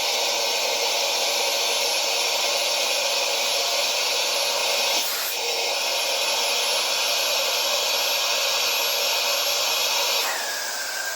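A cordless 4-in-1 Meco Eleverde vacuum cleaner runs continuously with a loud, steady whooshing whine, briefly dipping twice as the suction changes, with no talk over it.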